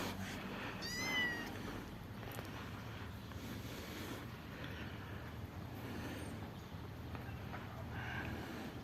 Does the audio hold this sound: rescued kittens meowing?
yes